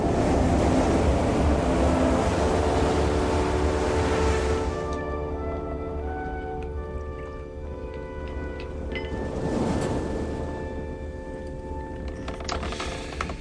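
Heavy stormy ocean waves surge and crash around a ship at sea, a loud broad wash that eases into a lower roar with creaking and wind, then swells again.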